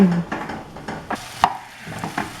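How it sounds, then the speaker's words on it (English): Mushrooms and onions sautéing in butter for a porcini soup, with repeated scraping stirs of a utensil in the pan over a soft sizzle, close up and fairly loud. "Just getting the mushrooms and onions and stuff going. We're gonna blend all this in a little while. But for now, it's just gotta cook in butter"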